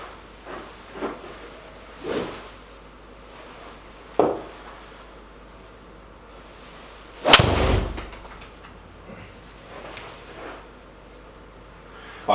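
A golf driver strikes a ball with one sharp, loud crack that rings out briefly, surrounded by a few softer thumps and shuffles.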